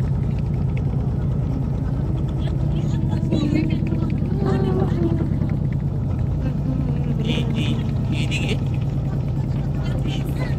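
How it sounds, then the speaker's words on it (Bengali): A trawler motoring at full speed near Narsingdi's old police station launch ghat, its engine a loud, steady low rumble filling the whole stretch while people talk over it. "তো আমাদের ট্রলার কিন্তু ফুল স্পিডে চলা শুরু করে দিছে"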